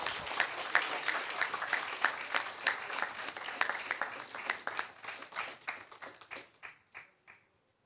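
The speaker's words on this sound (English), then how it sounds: "Have a huge round of applause." At a branch event, a modest crowd applauds as a memento is handed over, the individual claps distinct and rhythmic, thinning out and trailing off into silence near the end.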